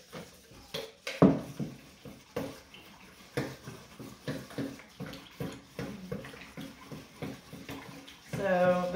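Sourdough starter stirred into water and maple syrup in a bowl, a steady run of soft scraping, sloshing strokes about twice a second, close by, ending in a brief louder splash of liquid.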